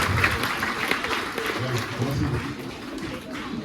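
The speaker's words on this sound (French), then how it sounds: "On applaudit pour Tata. Deuxième applaudissement." Children at a church mass clap together in a lively, uneven burst, with voices mixed into the applause throughout.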